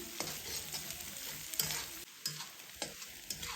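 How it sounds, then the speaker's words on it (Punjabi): Ginger and green chillies sizzle softly in a pan for a halo bhurji, with a spatula scraping and stirring in quick strokes. The sound is close but fairly quiet, and brief tonal squeaks come from the utensil. "ਸਾਰੀਆਂ ਚੀਜ਼ਾਂ ਨੂੰ ਮਿਕਸ ਕਰਕੇ ਆਪਾਂ 2-3 ਮਿੰਟ ਲਈ ਭੁੰਨ ਲਵਾਂਗੇ"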